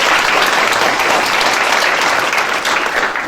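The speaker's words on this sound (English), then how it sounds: "let's give her a big round of applause" A roomful of people claps steadily for an absent choreographer at a city council meeting, a dense, even burst of applause throughout.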